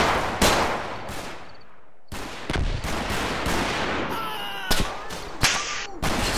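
Gunfire in the World War II video game Combat Mission Market Garden: loud, sharp shots and short bursts crack out irregularly, some close and some echoing farther off, with no talking.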